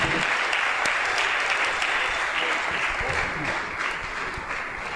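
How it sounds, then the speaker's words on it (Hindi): A church congregation at a bishop consecration service claps to welcome the new bishop, a steady, dense wash of applause that stays loud throughout and eases slightly near the end. "ताली बजाएंगे हम लोग और ताली बजती रहना चाहिए परमेश्वर की महिमा के लिए"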